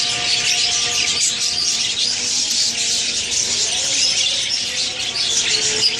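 A young male budgie, about one and a half to two months old, keeps up a busy run of chirps and chatter, close and fairly loud, over a steady background hiss.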